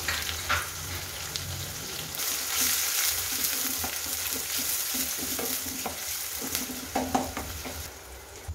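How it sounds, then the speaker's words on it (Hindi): Onions fried with cumin and curry leaves sizzle steadily in a pan while a spoon stirs and scrapes through them in irregular clatters, close and without speech. "तो मेरे प्याज अच्छी तरह से भून गए।"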